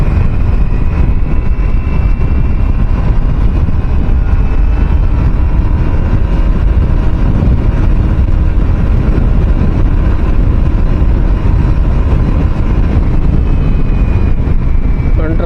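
A Honda Activa scooter runs at top speed on the road, heavy wind buffeting the microphone over a continuous, loud engine drone that holds steady throughout.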